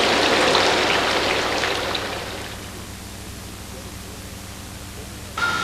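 Rain falls steadily on a rainy day near an airfield, a dense hiss that is loudest at first and then eases to a softer, even patter, with a brief sharp sound at the very end.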